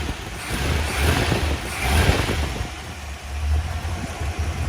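A 1957 Ford Thunderbird 312 Y-block V8 engine rumbles with a low idle, rising in a couple of revs before settling back, steady and close.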